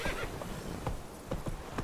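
A horse in The Witcher 3: Wild Hunt gallops with quick rhythmic hoofbeats and whinnies, a short close burst of movement at moderate volume without talk.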